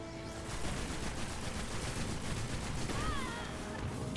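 Dense, continuous gunfire and explosive bursts from a firefight in the video game Destiny, a grenade blast among them, loud and sustained throughout with no pauses.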